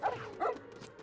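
A dog in the LEGO Harry Potter video game gives a couple of short yipping barks, close and fairly soft, with a brief whimpering tone between them.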